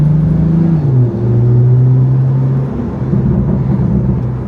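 Morgan Plus Six engine pulling up through its revs as the car accelerates, then the pitch drops as power comes off for a gear change, a loud steady drone from inside the car.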